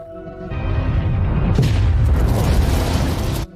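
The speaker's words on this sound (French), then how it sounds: "l'accident du vaisseau causé par une explosion de neutrinos" A spaceship explodes in the film Alien: Covenant, a sudden loud deep boom that swells into a sustained roaring blast, holding steady for a few seconds before cutting off abruptly.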